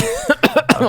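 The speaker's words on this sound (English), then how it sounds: "I'm having a cough" Several quick, harsh coughs in a short burst, close and fairly loud, with no talking.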